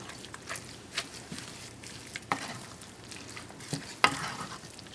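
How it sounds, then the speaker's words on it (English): Parsley peanut soup is stirred in a pot on the stove, giving a soft sizzling bubble with intermittent scraping spoon clicks at close range. "I'll stir it a little bit around"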